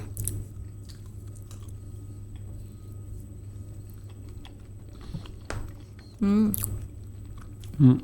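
Chewing a crispy raspberry chocolate pastry with a crisp outside and a very soft inside: soft, close crunching and mouth sounds run under a steady low hum. Short vocal sounds break in near the end.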